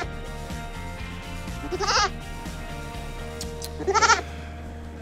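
A goat at a goat yoga class gives two drawn-out, quavering bleats a couple of seconds apart, loud and close against a continuous musical backing.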